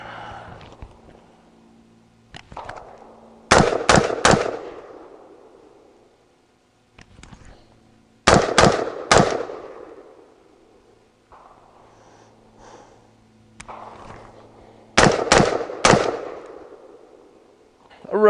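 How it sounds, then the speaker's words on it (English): Daniel Defense DDM4V7 pistol firing outdoors, heard as three bursts of three quick, loud, close shots, with quieter handling noise between the groups. "we're just going to put a couple of rounds through it"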